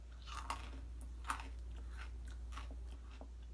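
Someone chews freeze-dried astronaut ice cream up close, giving soft crunchy bites and munching in an irregular rhythm over a low steady hum, with no talking.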